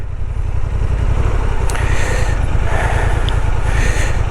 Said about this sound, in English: use the idle of the engine to advance